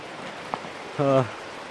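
Heavy rain pours down in a forest as a steady, dense hiss that fills the whole stretch, with a brief human vocal sound rising above it near the middle.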